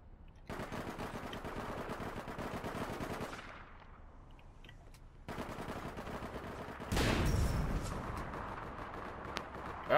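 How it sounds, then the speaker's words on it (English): Rapid automatic gunfire from an APB Reloaded online shooter match comes in dense, loud bursts, drops away briefly, then returns with heavier overlapping shots and a sharp blast near the end. "Oh, he's shooting."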